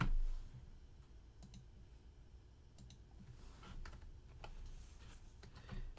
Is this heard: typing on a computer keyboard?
yes